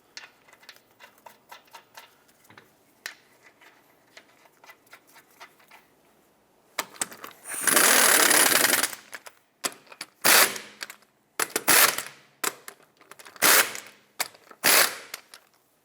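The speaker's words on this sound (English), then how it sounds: "in a cross pattern, torque them to 100 foot-pounds" A Jeep Compass's lug nuts are torqued to 100 foot-pounds in a cross pattern: soft ratchet clicking at first, then a loud, close burst of rattling impact and ratchet mechanisms in short repeated bursts with pauses between.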